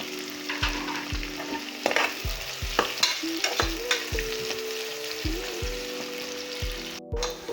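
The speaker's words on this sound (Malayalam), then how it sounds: "നല്ലോണം വഴറ്റിയെടുക്കാം." Onions and green chilies sautéing in a pan for beef curry, with a quiet constant sizzle and a rhythmic series of spatula scrapes and taps, about a dozen stirring strokes close by.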